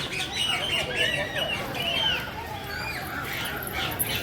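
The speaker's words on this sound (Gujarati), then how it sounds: "કલરના પોપટ" Colourful parrots at Surat zoo give repeated shrill chirps and squawks in short bursts over a busy background, while people talk nearby.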